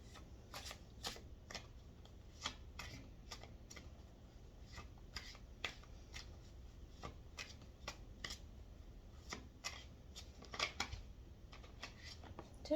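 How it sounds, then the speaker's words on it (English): Cards are shuffled over and over in a steady rhythm of soft, close slaps and riffles, with a low hum underneath and no talking. "So I'm going to shuffle 7 times for me to connect to the divine"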